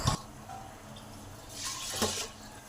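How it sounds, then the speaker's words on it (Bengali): Water is poured into a pressure cooker over rice, with a short splash at the start and a longer gushing pour near the end, close and without talk. "এই বাটিটা মেপে 3 বাটি জল দেবো।"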